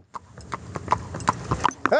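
A horse pulling an Amish buggy clip-clops along the road in quick, uneven hoof strikes, close by. Excited voices break in near the end.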